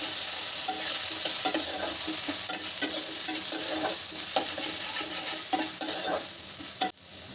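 Potatoes with a ground paste of onion, ginger, garlic and green chilli fry in oil with a constant dense sizzle, broken by repeated close scrapes and knocks of stirring.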